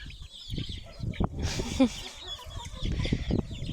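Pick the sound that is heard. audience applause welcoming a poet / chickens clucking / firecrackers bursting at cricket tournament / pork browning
chickens clucking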